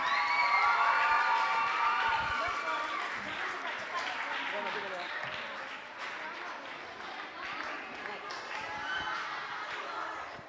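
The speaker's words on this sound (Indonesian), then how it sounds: "Beri tepuk tangan yang meriah dong." Audience at a school poetry event cheering, shouting and clapping, with children's voices in a loud, continuous crowd roar that stays dense throughout.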